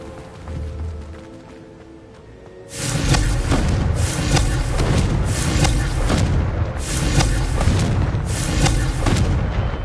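Repeated Confringo spell blasts in Hogwarts Legacy, a run of heavy booming explosions following a quiet start, several loud thudding bursts in close succession.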